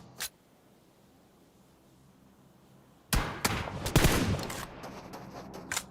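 Gunfire in PUBG Mobile: one sharp shot, a few seconds of near silence, then a loud run of rapid shots and bursts that tails off into scattered cracks.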